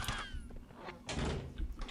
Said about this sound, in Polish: drzwi mnie popchnęły niezbyt przyjemnie